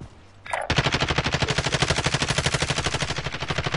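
Rapid automatic gunfire in a shooter video game, a loud, evenly spaced burst of shots that starts abruptly after a brief quieter moment and continues unbroken.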